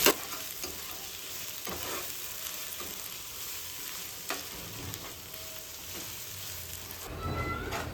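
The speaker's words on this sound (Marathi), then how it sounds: "आता हे छानपैकी आपण परतून घेऊया।" Ginger garlic paste and chicken sautéing in a pan, a steady soft sizzle with occasional scraping stirs, quiet and close, with no one speaking.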